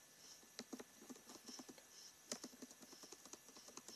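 Faint, rapid keystrokes clatter on a computer keyboard during a game of Minecraft, tapping in irregular quick bursts with a few sharper clicks and no one talking.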